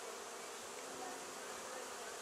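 A swarm of honey bees hums in a continuous, even buzz, fairly faint, as the swarm is shaken into a top bar hive, with no talk over it.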